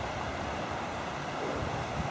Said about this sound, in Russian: Тут много перекатов, тут шумно постоянно. Шумит вода на перекатах.